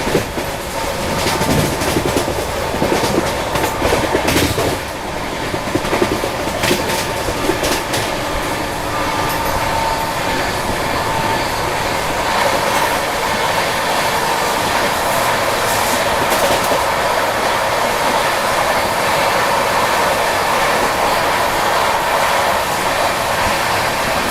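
Delhi Howrah Rajdhani Express overtaking the Rishikesh Hubli weekly express near Dabra railway station: a steady, loud roar of rolling rail wagons with rhythmic clickety-clack of wheels, continuous throughout with slight surges early on.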